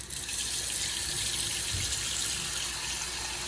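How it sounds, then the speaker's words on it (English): Cold water runs steadily from a tap into a pot, a continuous close rushing splash that doesn't let up. "Let's put some cold water back in there."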